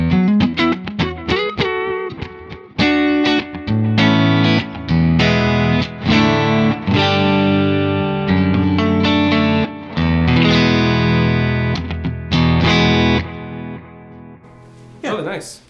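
Electric guitar played through a Kemper Brownie profile modelled on a Matchless amp with an H30 speaker, ringing out chords and single notes with a clean-to-driven, chorused, reverberant tone, loud and continuous for most of the passage.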